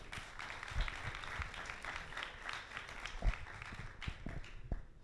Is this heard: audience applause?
yes